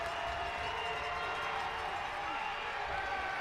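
A packed stadium crowd at an NCAA football quarterfinal between Mount Union and Muhlenberg roars on a third-down play, a dense, continuous wall of cheering that holds at a constant level throughout.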